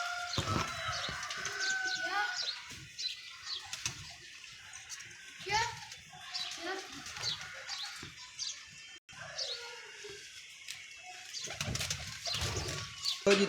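Paired pigeons kept by a pigeon fancier coo and call in soft repeated bursts close by, with chirps and other bird calls mixed in and a voice speaking at intervals over them.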